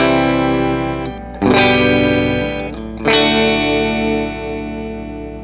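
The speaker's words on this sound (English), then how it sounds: "this is my amp with the clean channel on" Electric guitar played through an amplifier's clean channel, ringing chords with a sustained decay, struck twice with a fresh attack near the middle and again a moment later, full and close with no talking.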